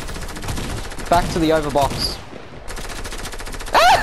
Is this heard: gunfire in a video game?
yes